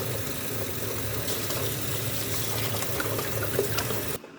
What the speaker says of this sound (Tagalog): Pinapatulo natin para mawala ang tubig.